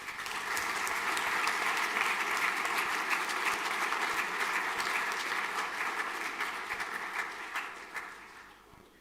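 Applause from a school final assembly audience after a prize is announced, a dense steady wash of many hands clapping that swells early and slowly fades toward the end.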